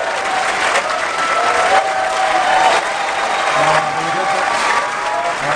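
A studio audience at a UK improv comedy taping breaks into sustained, loud applause with some cheering, a steady dense roar of clapping throughout.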